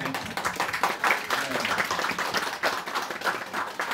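A congregation at a church founding thanksgiving service applauds with continuous clapping, moderately loud, with voices faintly mixed in.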